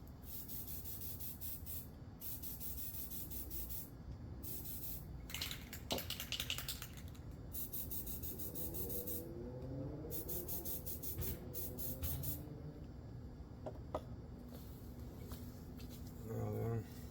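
Repeated bursts of spray hiss, several seconds each with short pauses between, coat a custom-built flounder fishing light up close, mixed with faint handling rustles and taps.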